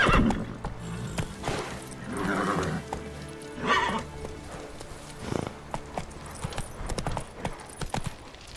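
Roach the horse in The Witcher 3 gallops with rapid rhythmic hoof clip-clop and lets out loud whinnies and neighs, close and prominent over a busy game soundscape.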